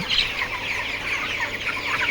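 Twenty-two-day-old broiler chickens with a mild cold cluck steadily as a flock, a close, continuous chorus of overlapping calls with no talking.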